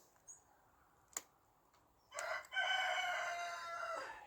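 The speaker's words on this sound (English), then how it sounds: "Shut up, cockerel." A cockerel crows loudly and close by in a long drawn-out call after a couple of brief clucks, with quiet outdoor background between the sounds.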